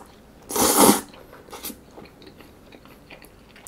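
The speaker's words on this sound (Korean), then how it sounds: "그래서 우선 중국 짜장면 먼저 한번 먹어보겠습니다" Someone eats Chinese-style jjajangmyeon noodles, one loud slurping, crunchy bite up close, then quiet, faint chewing and small mouth sounds.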